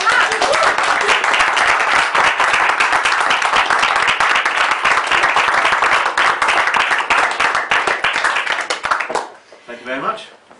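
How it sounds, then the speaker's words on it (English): A room of guests at a London Sporting Club business club spotlight show gives a sustained round of loud, dense applause that fades out near the end, where a voice briefly speaks. "And just a round of applause"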